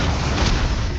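A Confringo blasting spell explodes in Hogwarts Legacy, a dense, loud roar of blast noise that fills the whole short moment without letting up.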